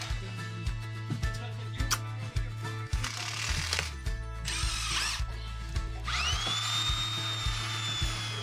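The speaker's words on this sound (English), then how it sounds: "I'm drilling these holes close enough to the subfloor" Power drill boring holes through floor joists just below the subfloor, with repeated short bursts of whirring and motor pitch changes up close, followed by a long high whine.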